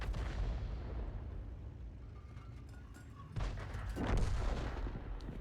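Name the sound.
artillery gun firing at a heavy tank, FV304 in a video game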